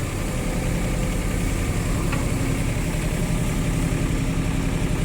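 Komatsu mini excavator's engine idling, a steady dense mid-to-low rumble with a constant vibrating drone, close and even throughout, no talk.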